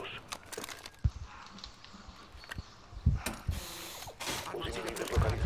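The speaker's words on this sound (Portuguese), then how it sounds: "Repondo o carregador." Mechanical clicks and clacks of a gun magazine being swapped in a Rainbow Six match, several sharp metallic snaps spread irregularly among quieter background game noise.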